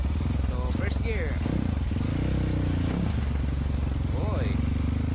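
A Kawasaki KLX motorcycle with a 274cc bore-up engine pulls away in first gear with a loud, steady engine drone and rising pitch sweeps, close up and continuous throughout.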